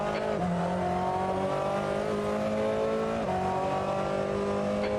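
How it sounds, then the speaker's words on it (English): Ferrari 488 GTLM race car at Mugello in a racing video game, a loud steady engine note climbing and dropping in pitch with gear changes, no talk. "Car approaching. Watch your mirrors."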